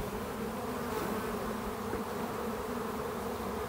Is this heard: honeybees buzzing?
yes